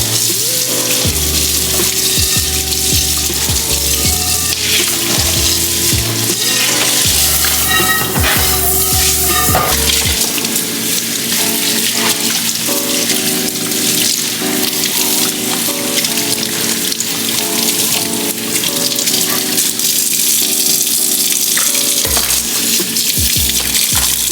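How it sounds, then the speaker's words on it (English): Tap water runs steadily into a kitchen sink during dishwashing, a loud continuous splashing rush with clinks and shifting tones as dishes move under the stream. "I'm just about to wash these dishes because we didn't have any dish soap."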